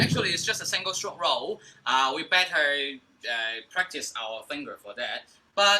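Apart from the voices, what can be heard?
None of the usual background noises is heard.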